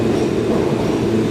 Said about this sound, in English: We should see a train coming in 1 minute.